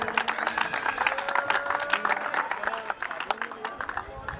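A crowd at a sports prize-giving ceremony claps for the runner-up captain receiving a shield, with brisk, uneven clapping that swells and thins over a few seconds.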